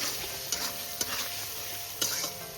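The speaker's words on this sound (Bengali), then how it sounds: "আর দেব হলুদ গুঁড়ো আমি টমেটোটা একটু ভেজে নেব" Tomato with turmeric and salt frying in oil in a pan, a steady close sizzle broken by a few sharp scrapes and clinks of a stirring spoon, with no voices.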